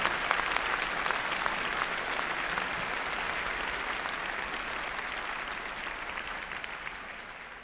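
Sustained, even audience applause for a graduating class at a university postgraduate graduation ceremony, a dense crowd of clapping hands filling the hall steadily throughout and tapering slightly at the end.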